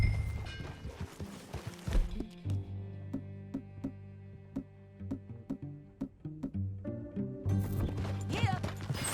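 Horse hooves clip-clop in a steady rhythm in the Western open-world game Red Dead Redemption 2, close and moderately loud over low music, with a brief snort near the start.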